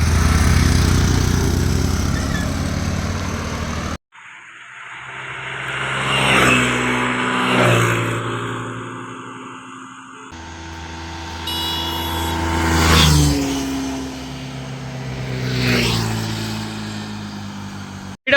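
Ola electric, Honda Dio and Activa 5G scooters accelerate hard in sport mode during a speed test, with rising whines and engine notes climbing in pitch across several separate runs, loud and close.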